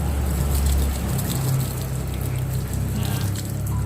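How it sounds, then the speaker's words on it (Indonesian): Water poured slowly over an injured civet during a bath, running from tail toward body in a steady close splashing flow with a low humming pump-like undertone throughout. "Kalian bisa siram musang kalian dari bagian ekor guys, kayak gini."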